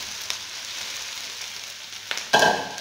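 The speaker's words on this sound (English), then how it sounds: "So at this point, guys, I'm going to add the potatoes." Potatoes and onions frying in a pan, a close steady sizzle with a few clicks and a louder burst of crackling near the end as food hits the hot oil.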